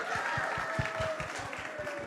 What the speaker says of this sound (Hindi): एक बार कॉफी के लिए जोरदार तालियां